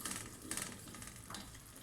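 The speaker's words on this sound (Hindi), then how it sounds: "ये प्याज ऑयल में अच्छे तरीके से फ्राई हो रहा है" Onion fries in oil in a pan, a faint, steady sizzle with soft crackles and the occasional scrape of stirring, with no one talking.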